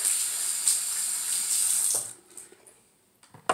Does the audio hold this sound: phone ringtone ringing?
no